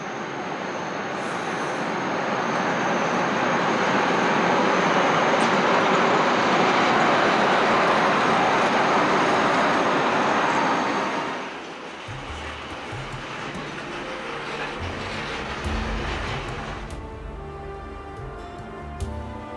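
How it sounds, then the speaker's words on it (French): Iron ore train on the Malmbanan line passing through Narvik station, a loud, broad rolling roar of heavy wagons that holds steady, then drops away to quieter clanks and rattles as it moves off. "Ce train traverse d'abord la gare de Narvik avant de rejoindre sa destination finale, le terminal minéralier."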